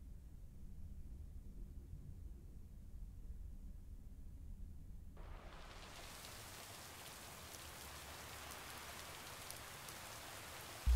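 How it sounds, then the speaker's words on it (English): Rain falls in a video game lake scene, starting as a low rumble and then swelling into a dense, steady hiss of rain on surfaces that continues to the end. "All right, it is raining."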